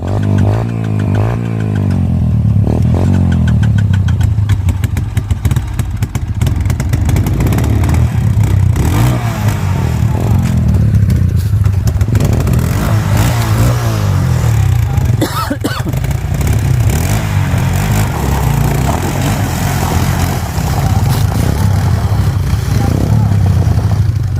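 A dirt motorcycle revs hard at full throttle on the Inxiong trail up Mt. Paldingan, a steady loud engine roar with a low rumble that climbs and holds close by for the whole stretch, with faint voices underneath.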